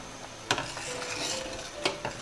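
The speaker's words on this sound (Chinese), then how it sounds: "开锅之后打去血沫" A ladle skims scum off pork ribs blanching in a boiling pot with ginger and cooking wine, two sharp metallic clinks against the pot over a low bubbling, simmering bed.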